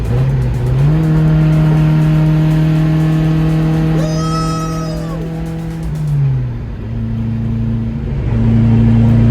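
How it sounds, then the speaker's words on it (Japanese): A Nissan Sunny pickup truck engine drones close and loud at steady speed, its pitch shifting up and down as it is driven, with a faint misfire; a brief high squeal rises midway. "まだ軽くミスファイアしているんだよな。"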